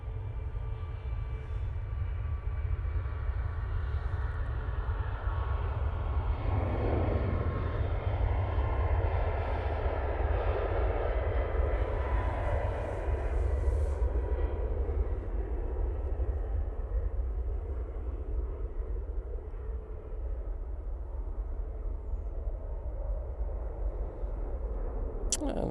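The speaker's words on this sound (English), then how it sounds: "And there goes the Ryanair." Ryanair jet taking off at Manchester Airport, a loud continuous engine roar with a rumbling low end that swells and sweeps as the aircraft passes, steady throughout.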